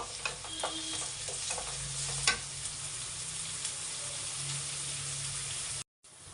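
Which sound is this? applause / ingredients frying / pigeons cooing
ingredients frying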